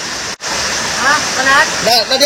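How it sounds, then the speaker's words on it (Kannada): Broadband rushing water at Kawasan Falls, a waterfall in the Philippines, roars steadily and close throughout, briefly dropping out for an instant while voices talk over it. "ನಾವು ಕವಸಾನ್ ಸೆಕೆಂಡ್ ಫಾಲ್ಸ್ ಅಲ್ಲಿ ಇದ್ದೀವಿ"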